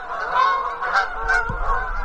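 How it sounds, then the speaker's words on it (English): Several geese honk loudly and repeatedly as they fly overhead in a quick, overlapping series, beside a snowy river, no talking. "Geese going over."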